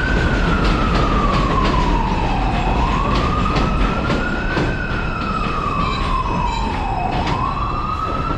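A subway train's steady loud rumble fills Mosholu Parkway station on the New York City number 4 line in the Bronx at night, with a rising and falling siren-like tone sweeping over the noise throughout.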